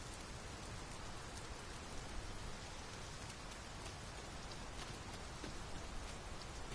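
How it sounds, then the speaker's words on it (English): Heavy rain pours down steadily in the video game Dragon's Dogma 2, a dense, even hiss of a downpour with no voices. "We must be really down on our luck to get caught out in such a downpour."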